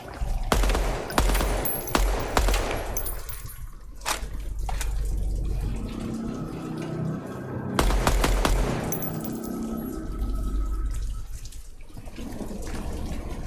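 Bursts of automatic gunfire shooting at active targets in a video game, rapid close cracks in several volleys with quieter stretches of ambient noise between them.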